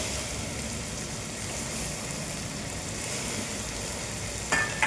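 Mint paste and potato sautéing in a pan for green pea rice, a steady broadband sizzle running throughout with faint clinks of a spoon near the end, no talking.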